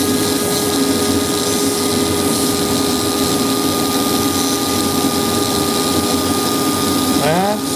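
A small motorized grinder runs steadily on a Pelikan fountain pen nib being reground with water, a continuous whirring hum with a short pitch sweep as it spins down at the end.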